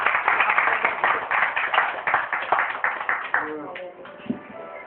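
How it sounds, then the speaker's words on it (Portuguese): Congregation at a family worship service clapping together in a rhythmic, fairly close burst of applause that thins out and stops after a few seconds. "uma salva de palmas para o Senhor Jesus."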